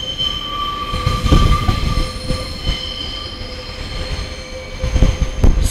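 A three-car Class 144 diesel train rumbles past the Lincoln Central level crossing up close, with loud wheel and rail noise, squealing wheels and a steady crossing alarm tone throughout.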